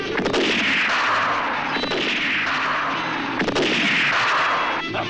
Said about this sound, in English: A pistol that shoots two ways.